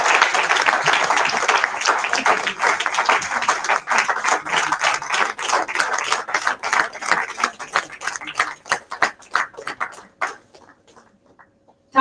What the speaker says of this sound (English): Ladies and gentlemen, a big round of applause.